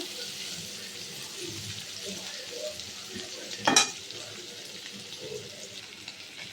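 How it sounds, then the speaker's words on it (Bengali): Paneer dusted with turmeric powder frying in a pan, a faint steady hiss of oil with one brief sharper clink partway through. "এবার আমি এগুলো ভেজে নেব ভালো করে, সামান্য একটু লাল লাল করে ভেজে নেব।"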